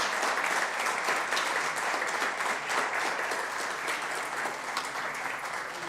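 An audience at a premiere of a documentary series on indigenous cultures in Chile applauds steadily, a dense, even wash of clapping that holds at a consistent level throughout.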